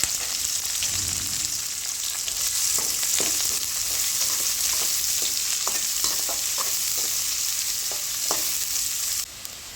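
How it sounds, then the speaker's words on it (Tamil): Fennel seeds, urad dal and onion frying in a pan, a loud continuous hiss of hot oil close by with soft irregular stirring taps, and no speech. "கொஞ்சம் சோம்பு போட்டுட்டு வெங்காயம் போட்டுருவோம்."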